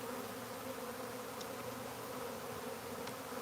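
Honeybees swarm around a hive in a dense, steady buzzing drone that stays constant and close throughout, with no talk.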